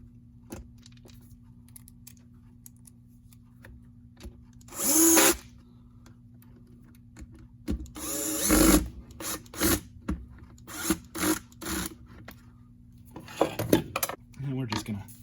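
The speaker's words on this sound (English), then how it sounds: "Turn down the torque on the drill all the way to 1." Cordless drill with torque set low driving screws into the motor access cover of a Porter Cable 4-gallon shop vac, several short whirring bursts with clicks and plastic handling noises between them, close up.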